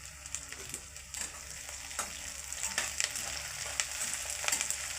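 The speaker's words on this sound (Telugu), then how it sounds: "నూనెలనే ఫ్రై అవుతుంది." Onions frying in oil for a fish curry, a soft, close sizzle with crackling pops and a few light stirring clicks, steady and fairly quiet, with no speech.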